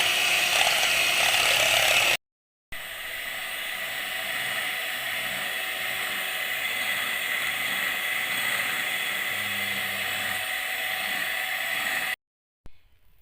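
An electric hand mixer beats cake batter of sugar and vanilla in a bowl, a steady close whirring and rattling drone running continuously with a brief break near the start, no talking.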